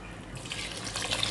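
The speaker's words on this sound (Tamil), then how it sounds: "இப்போ 1 டம்ளர் ஊற்றிட்டேன்." Water poured from a tumbler into a pot of soaked rice and paneer for pulao, a short splashing, gurgling stream that swells as it flows, close and moderately loud.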